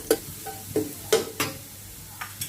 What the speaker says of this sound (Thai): ใส่น้ำมันพืชพอประมาณนะคะ ตามด้วยกระเทียมสับค่ะ เราจะผัดจนกระเทียมเหลืองเล็กน้อยนะคะ